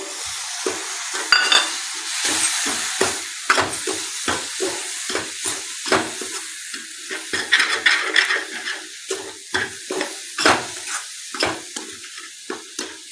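Rava modak mixture with milk and food colour stirred in a pan, heard as close, rhythmic scraping strokes repeating steadily, each a short burst with quiet gaps between, and no talking.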